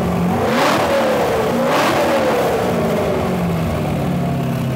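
An LS-swapped Porsche 911 engine revs up twice in quick succession, pitch rising and falling, then settles into a steady loud drone close by.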